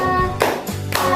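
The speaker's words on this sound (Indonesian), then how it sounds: "Duduk aja nggak apa-apa, tapi sambil tepuk tangan ya." Children clapping along while singing Garuda Pancasila, two loud bursts of hand claps with broadband slaps and a thin voice tone drifting beneath.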